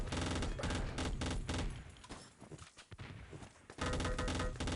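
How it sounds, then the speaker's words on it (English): A mounted machine gun fires in the video game Enemy Territory, long rapid bursts close and loud, pausing briefly in the middle before another burst resumes. "How about setting up nice, close,"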